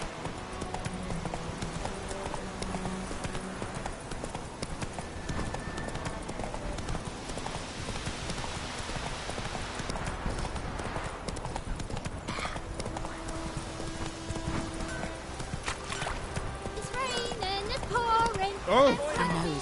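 Roach the horse galloping in The Witcher 3, a steady rhythmic run of hoofbeats under game music and ambience, with talk over the top.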